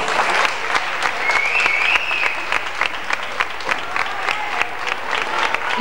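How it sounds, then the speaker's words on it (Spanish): Applause from an audience at a sports club's 78th anniversary celebration, a dense, steady clapping that fills the room for several seconds, with a faint voice or whistle rising briefly over it. "Vamos a dar un fuerte aplauso a las princesas y a las reinas."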